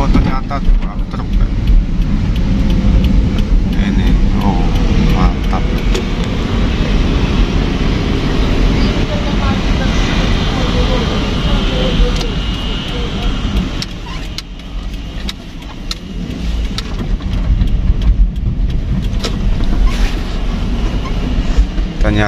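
Trucks driving past on a quiet road at night, a loud continuous engine and tyre rumble filling the whole stretch, with people talking over it.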